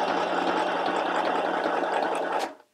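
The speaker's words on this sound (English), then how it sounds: "stitch number 8 is going to do the stitches going side to side" A FHSM 505 mini sewing machine sews side-to-side zigzag stitches with a close, steady buzzing motor run of about two and a half seconds that stops abruptly at the end.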